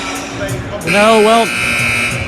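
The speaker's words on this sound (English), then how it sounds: "there's the buzzer" A buzzer sounds at a high school basketball game between Orange and Southern Alamance, a loud, steady electronic tone that starts about a second in and holds over crowd noise and voices.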